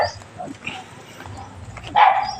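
Dogs bark in a rural spot, with scattered yips and barks and a louder burst near the end, mixed with nearby talking.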